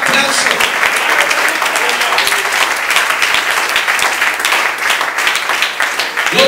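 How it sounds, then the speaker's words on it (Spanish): A church congregation breaks into loud, sustained applause, a thick continuous wash of many hands clapping close and full for several seconds with no voices standing out. "El Señor se merece un fuerte aplauso."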